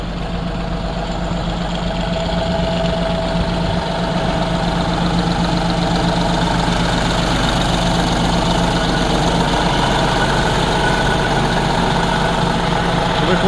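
A tractor's diesel engine idles steadily and loudly up close, a continuous low rumble with a regular knocking pulse and no pauses.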